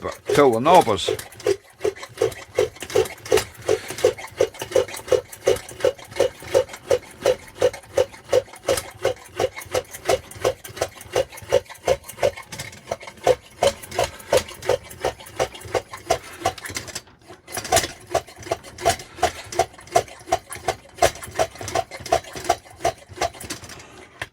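A Chinese Anchor Tilley pressure lamp being pumped up, a steady run of rhythmic squeaking, wheezing pump strokes about twice a second, close and fairly loud, with a brief pause partway through before the strokes resume.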